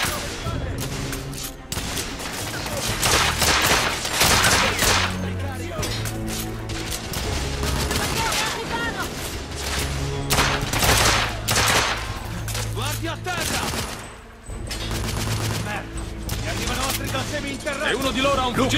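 Dense gunfire from The Order: 1886, with rapid volleys and sustained bursts continuing loudly throughout amid game music and combat noise.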